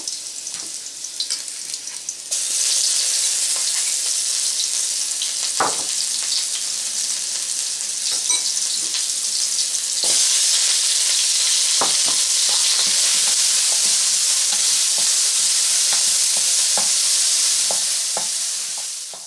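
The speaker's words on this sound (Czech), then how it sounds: "Přidáme chili papričku, česnek, zázvor, nakrájenou červenou papriku a za stálého míchání smažíme vše asi 3 minuty." Chili, garlic, ginger and sliced red pepper fry in a pan, a steady loud sizzle with intermittent scraping and stirring clicks from a utensil, alone without talk.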